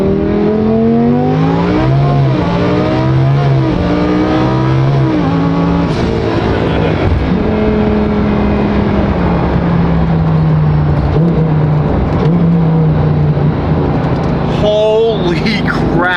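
A twin-turbo Lamborghini engine pulls hard while driving, loud and close, its pitch climbing through the revs with several gear shifts and dips before rising again, with a voice briefly heard over the roar.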